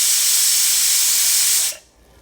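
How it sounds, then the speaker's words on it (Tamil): A pressure cooker cooking green gram lets off a loud, steady hiss of escaping steam that cuts off abruptly after under two seconds, heard up close with no talk. "இப்போ குக்கர் விசில் இறங்கிருச்சுங்க."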